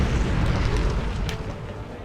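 A grenade launcher round explodes in XCOM 2, a deep, heavy boom that rumbles and rolls off over about two seconds, with a faint voice briefly underneath.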